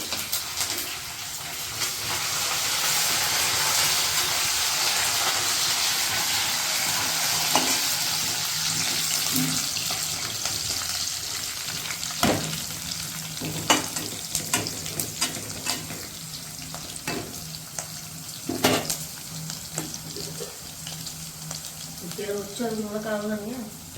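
Green chilies, onions and curry leaves frying in a pan with a constant sizzle, broken by repeated stirring scrapes and clinks, plus brief running water near the end.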